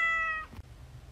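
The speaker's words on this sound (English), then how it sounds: "Do you have a cat?" A cat meows in a short, close, harmonic cry inside a hotel room, followed by a faint thump and low room noise.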